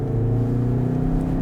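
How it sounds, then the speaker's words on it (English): A Skoda Octavia RS at full throttle pipes its synthesised engine note into the cabin, a steady, loud droning hum with a smooth, sustained tone through the whole short stretch. "I know it's a fake engine noise, but it sounds so good on full chat"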